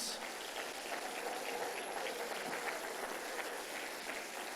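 A church congregation applauds during a worship service, a soft, distant, continuous patter of many hands like rain that stays steady throughout without any standout claps.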